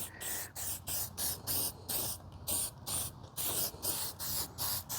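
Meguiar's Ultimate Black trim restorer is sprayed in about a dozen quick, even bursts from a trigger bottle, close and crisp, each hiss separated by a brief pause.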